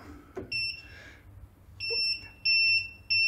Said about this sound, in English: 3 second alarm gives you a chance to grab the handle in case you're doing sublimation work